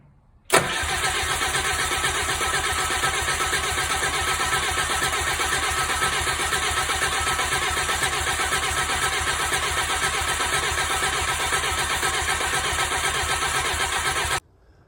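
A Bobcat 743 skid steer with a poppet valve whine fault cranks and catches at once, then runs at a steady, loud, even idle close by until it is shut off.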